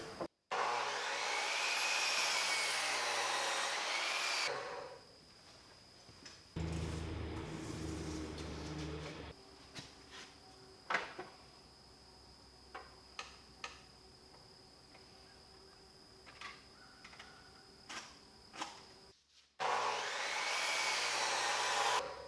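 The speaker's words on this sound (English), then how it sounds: "make sure that they're lined up when I make the cut, and it'll cut both 2x4s in half" Power saw cutting through two stacked 2x4 boards in one pass, a loud sustained whine that stops abruptly, followed by quieter clicks and knocks, then another loud cutting burst near the end.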